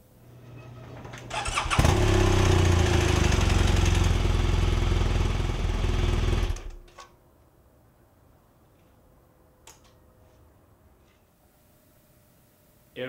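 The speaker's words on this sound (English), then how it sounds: "after that you just run the bike for a couple seconds, and you top up after running the bike" BMW R1200RT liquid-cooled motorcycle engine started and run for a few seconds after an oil change, loud steady rumble close by that cuts off, leaving faint clicks and handling noises.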